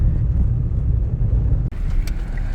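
Steady low road rumble from inside a car following a truck along a dusty road in the mining town of Hotazel, a continuous drone with one brief dropout partway through.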